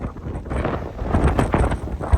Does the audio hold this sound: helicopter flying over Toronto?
no